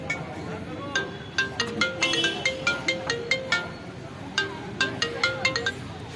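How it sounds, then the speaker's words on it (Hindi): A phone ringtone plays as a repeated melodic chime pattern, mid-level and fairly close, in two bursts with a brief pause, over faint background voices and room noise. "फोन आ गया क्या?"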